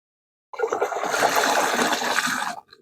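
Dissolved fertilizer solution pours steadily into a container for about two seconds, a close, continuous watery rush that starts abruptly and tapers off.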